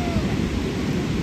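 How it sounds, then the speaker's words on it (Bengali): Thunder rumbles from dark evening skies near the sea at Puri, a dense, low roll that stays steady and fairly loud throughout. "মেঘ ডাকছে"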